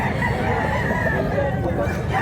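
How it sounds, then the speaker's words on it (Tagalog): Roosters at a weekly poultry market where street comb round-head birds are sold, crowing and clucking close by over constant crowd noise. "Ang manok."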